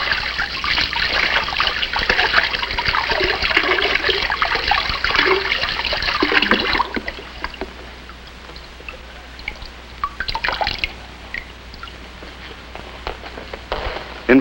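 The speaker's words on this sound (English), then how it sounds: "So, we can simply hose it off." A water hose sprays and rinses Mylar insulation, a loud rushing splash for about seven seconds, then quieter dripping and trickling water.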